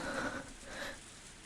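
Heavy rain falls steadily in the visual novel Higurashi When They Cry, a faint, even wash of drops with no voices over it.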